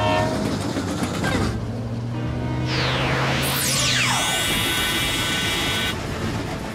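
A cartoon train from a children's animated series rolls along with a steady rumbling clatter while its horn sounds in long sustained blasts, and sweeping whooshing effects glide up and down over the noise. No one talks.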